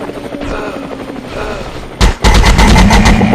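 Rapid automatic gunfire from a video game bursts in loud and dense after a stretch of busy game background noise, continuing steadily to the end.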